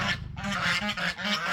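Several loud, close geese honk in quick overlapping bursts, a raucous repeated cackling with no speech.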